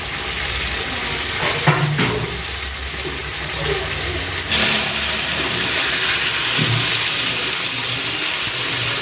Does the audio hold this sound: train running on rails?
no